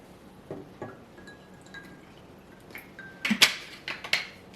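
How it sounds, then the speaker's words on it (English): SodaStream sparkling water poured into a glass of ginger ale and lemonade over ice, with soft trickling, fizzing and a few clinks of ice building toward the end, close and fairly quiet. "And then for those of us who like it less sweet, SodaStream water."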